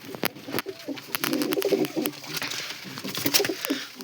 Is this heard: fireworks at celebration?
no